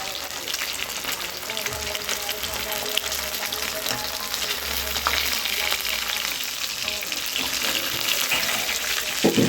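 Sankara fish fries in oil with curry leaves in a small kadai, giving a loud, continuous close-up sizzle and crackle that holds steady throughout with no talk.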